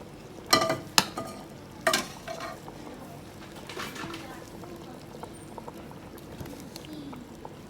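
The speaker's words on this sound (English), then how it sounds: "So I'm going to stir it" Nigerian Rivers native soup stirred in a pot, a few loud knocks and scrapes of a spoon against the pot early on, then softer stirring and a low bubbling simmer.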